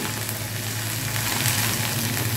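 Leafy greens with salt and a pinch of turmeric fry in a pan, giving a steady, close hiss of sizzling oil that holds evenly for a couple of seconds with no voices.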